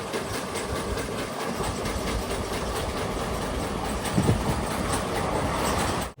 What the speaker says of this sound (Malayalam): ട്രെയിൻ ഇപ്പം മധുരയിലെത്താനായി.